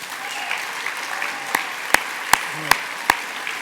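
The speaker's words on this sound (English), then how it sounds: "could we have one last round of applause for all of our Circle honorees tonight?" Audience applause at an Emmy Gold & Silver Circle honors awards ceremony: scattered clapping in a large room, with several sharp, louder claps standing out near the middle and end, no voices over it.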